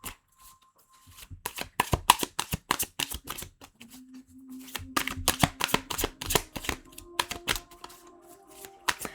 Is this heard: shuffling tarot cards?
yes